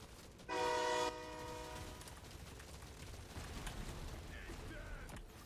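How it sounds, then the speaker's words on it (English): A real train horn blasts nearby for about half a second, loud and harmonically rich, over a rumbling background of rail noise. "And I apologize for the train that you guys are hearing."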